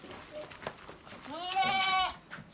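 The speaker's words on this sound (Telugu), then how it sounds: "సో ఇవన్నీ బ్రీడింగ్ మేకలు" A Barbary cross goat kid among breeding goats on a farm gives one clear, drawn-out bleat at close range, with faint background noise around it.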